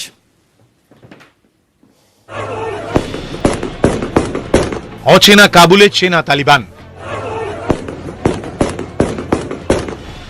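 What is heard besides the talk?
gunfire in the streets of Kabul, news footage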